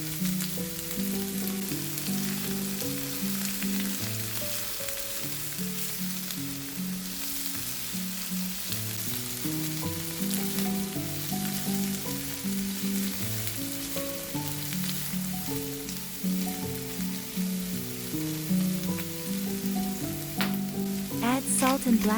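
Meat fries in a pan with carrots and onions, a continuous close sizzle and crackle with occasional stirring, steady throughout and unaccompanied by voices.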